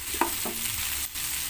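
Leftover fried chicken and ham fry in oil with ampalaya, a close, steady sizzle with a couple of quick stirring scrapes near the start.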